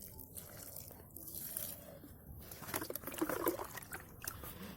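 Water trickling and splashing onto garden plants, including onion plants, a close uneven pour that swells louder partway through, with no talk.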